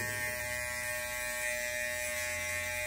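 Electric hair clippers with a half guard comb cutting a fade haircut hum in a steady, close, unbroken buzz throughout, with no talking.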